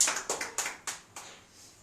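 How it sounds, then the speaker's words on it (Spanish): Church congregation clapping in a short, rhythmic burst of about five distinct claps spaced roughly a third of a second apart, fading quickly. "Vamos a dar un aplauso a Dios por su palabra."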